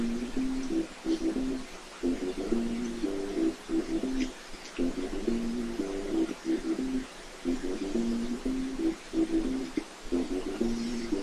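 A bird in a video game coos in a steady, repeating series of soft, low two-note calls spaced by brief pauses, continuing throughout at moderate, close volume with no talking.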